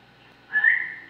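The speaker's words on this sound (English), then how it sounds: "someone or something else whistles back" A single short whistle in reply, coming from a played recording of a house where the only occupants were supposedly elsewhere; one rising, sustained tone that swells and fades over about half a second, alone with no talk.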